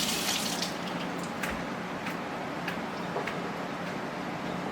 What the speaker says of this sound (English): give them a quick little rinse